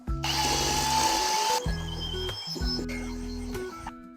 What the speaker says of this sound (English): Now we're gonna cream the sugar and the shortening.